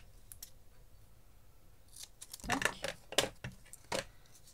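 Scissors cut through paper card while making a retro ticket-style greeting card, starting with a few light snips and then building to several louder, close crunchy cuts in quick succession.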